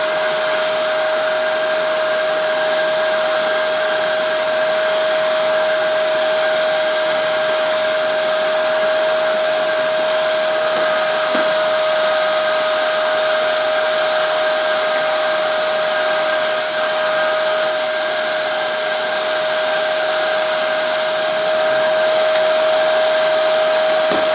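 A Hychika 18V cordless wet and dry vacuum in blower mode runs steadily throughout, with a constant high-pitched whine over a broad airy rush and no voices.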